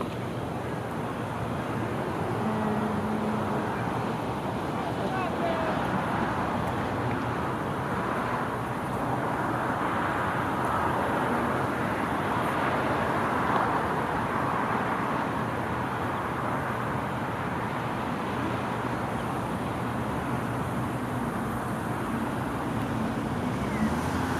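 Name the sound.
wind blowing outdoors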